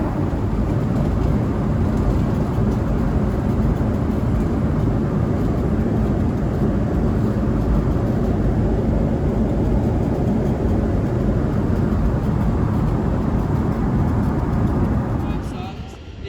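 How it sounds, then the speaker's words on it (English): A seaplane comes in to land at Vancouver, a continuous broad engine roar and wind-like rumble holding steady throughout, loud and enveloping, easing slightly at the very end. "This is a seaplane that's just coming into land."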